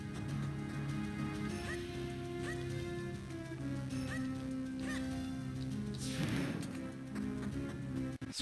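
Clucking chickens in The Minish Cap, a Zelda video game, heard as short repeated calls over steady game music and background sound.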